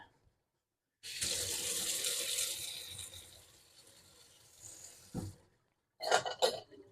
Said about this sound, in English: So I'm going to give that a rinse for now, and I'll wash it later.